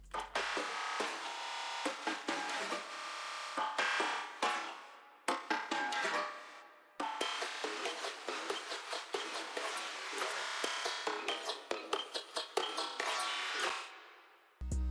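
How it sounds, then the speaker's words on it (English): A percussion loop for a hard trap beat built in FL Studio, rapid clicky hits and crisp transients repeating in tight rhythmic bursts, loud and dry with brief pauses between phrases and no voice. "I also added this percussion loop"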